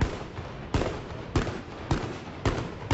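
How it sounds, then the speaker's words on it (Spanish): A long gun fires at a group of people in Miami Beach: five sharp, loud shots spaced about half a second apart, each a hard crack with a short tail, and no talking. "un hombre toma un arma larga y dispara contra un grupo de personas"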